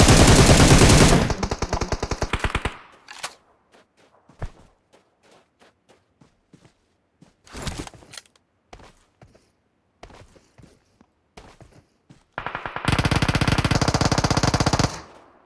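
Automatic gunfire in the mobile battle royale PUBG Mobile: loud rapid bursts open and close the stretch, with sparse single shots and quiet footsteps scattered through the gap between them.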